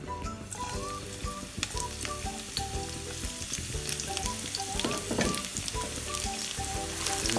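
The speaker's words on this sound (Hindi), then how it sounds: "इसको मैंने से 1 से 2 मिनट फ्राई किया" Sliced garlic sizzles and fries steadily in hot cooking oil for rice, a dense crackling hiss with scattered clinks of a utensil stirring the pan, close and continuous throughout without any talk.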